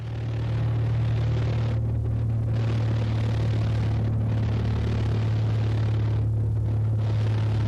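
Droning small plane engine, steady and loud with a low hum, from found footage of a light aircraft that stalls and crashes into trees; the tone dips briefly a few times without ever cutting out.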